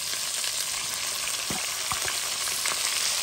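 Sausages fry in a pan for a sausage curry with cabbage, making a dense, constant sizzle with a few soft knocks from stirring around the middle, with no speech.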